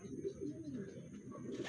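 Racing pigeons coo softly and repeatedly nearby during loft training, a low, warbling murmur running throughout the short moment with a faint steady background hiss.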